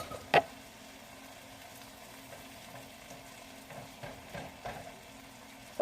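Cauliflower dish bubbling and frying in a pan, a soft steady sizzle with a few sharp clicks and pops, close and quiet with no talking.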